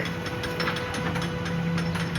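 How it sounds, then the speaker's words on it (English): A sea lock mechanism being operated beside the Irish Sea gives off a steady, continuous ratcheting and grinding clatter of gears and pawls, with a low mechanical hum throughout. "they're operating the sea lock"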